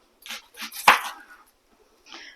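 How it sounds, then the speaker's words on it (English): A knife chopping an onion on a cutting board for potato soup, a few crisp knocks with one sharp louder chop, close and alone in a quiet kitchen. "Then we're going to chop up our onion."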